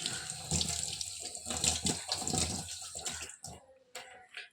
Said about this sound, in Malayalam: കഴുകാം.